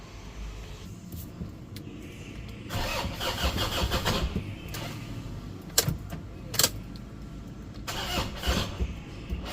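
A Toyota Innova's engine cranks and starts after EGR valve cleaning, with a few clicks and keys jangling first, then a churning crank that catches and settles into a steady idle, close and moderately loud.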